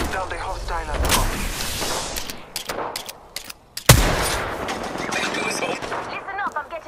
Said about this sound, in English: I am taking fire. They're shooting at me.